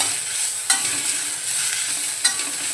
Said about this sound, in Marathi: आता आपण खोबऱ्याचे तुकडे घालूया, लसणीच्या पाकळ्या आणि आल्याचे तुकडे। आणि भाजून घेऊया।